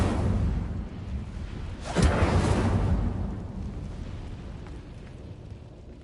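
Incendio fire spell cast in Hogwarts Legacy, a loud fiery whoosh bursting in about two seconds in over a rumbling game background, then tailing off into a lower roar.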